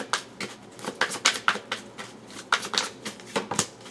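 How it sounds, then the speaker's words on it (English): Tarot cards being shuffled in quick riffling bursts, a series of crisp papery flutters with short pauses between, close and fairly quiet. "I'm going to shuffle that again."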